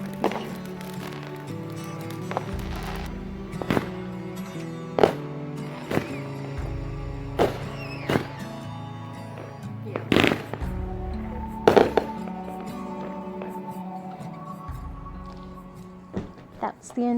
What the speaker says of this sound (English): I love fireworks. These are so pretty.